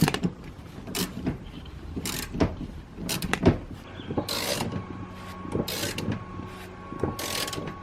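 A ratchet backs out Torx T50 front seat bolts in a Saab 9-3, giving a close series of crisp, rapid clicking bursts with short pauses between them over a low mechanical background.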